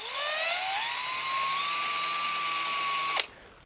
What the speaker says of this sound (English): I'm just going to drill them straight in